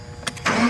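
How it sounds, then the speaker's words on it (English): A propane-powered forklift engine runs steadily after the tank is shut off, a brief close mechanical hum with a couple of clicks before the engine note firms up. "you have to let the engine run."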